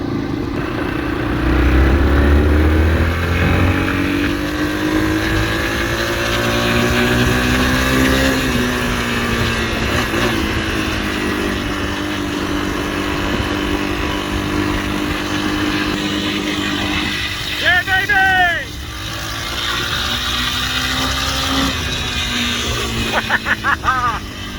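A Yamaha XT225 trail motorcycle on its first ride after a service, its single-cylinder engine droning steadily with shifting revs and gear changes, heard close from the rider's position throughout.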